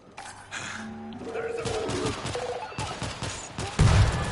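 Rapid gunfire bursts from the video game World War Z, with mechanical weapon clicks and a loud final shot, set against game sounds and someone talking.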